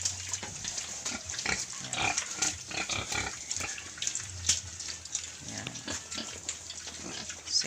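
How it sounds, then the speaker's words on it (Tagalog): Native pigs eat noisily up close, with steady chomping, slurping and snuffling, plus splashes of water and occasional speech over it. "Pwede natin ipakain sa ating mga alagang native pigs"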